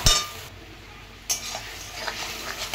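Spices with salt and turmeric are stirred and fried in a pan, giving a few close metallic scrapes and clinks of a spoon against the pan over a soft sizzling hiss.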